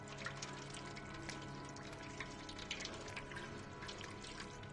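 A cat laps water in the PS5 video game Stray, giving a steady, close wet trickling and dripping that runs on evenly without pause and without any voices.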